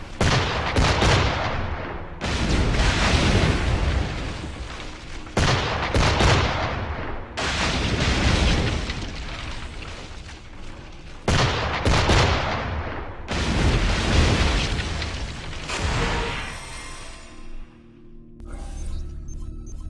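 Gunboats in Assassin's Creed IV: Black Flag fire repeated heavy cannon volleys, loud booming bursts coming every couple of seconds with rumbling decay between them, then a quieter tail.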